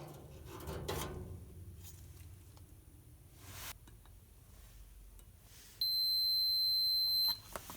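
Continuity beep from a multimeter testing the flame sensor of a gas dryer, a steady electronic tone lasting about a second and a half near the end, following quieter handling clicks.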